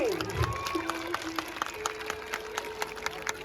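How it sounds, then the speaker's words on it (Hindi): An audience claps at a stage show featuring a performance as Lord Rama, a scattered patter of hands with distinct sharp claps standing out, mixed with crowd noise and a sustained tone running beneath. "ताली तो बजाइए।"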